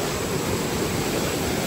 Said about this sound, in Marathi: आता आम्ही धबधब्याखाली पोहोचलो आहोत. छोटा धबधबा आहे हा. Mini waterfall.